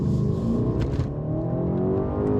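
BMW Alpina B8 with a 4.4-litre twin-turbo V8 accelerating hard, a loud, steady engine roar with rising harmonic tones held throughout, close and alone without talk.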